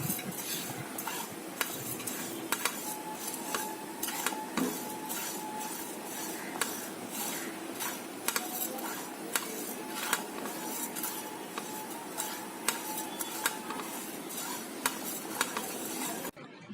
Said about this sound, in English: Now I've heated a pan and I'm going to dry roast 2 tablespoons of fennel seeds